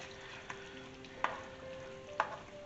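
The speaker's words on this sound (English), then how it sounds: "So we will mix this properly" Chicken biryani gravy is stirred in a pan, with a faint steady sizzle and a few soft utensil scrapes and knocks against the pan, quiet and close, with no voices.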